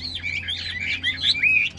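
A Chinese hwamei songbird sings from its cage in a rapid, continuous run of bright, varied whistled phrases, close and loud, with no voices over it.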